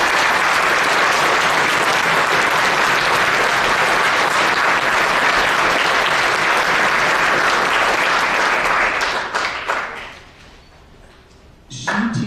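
A concert audience applauding a school music teacher, loud, dense sustained clapping for about ten seconds before it thins out and fades, then a brief burst of claps at the end.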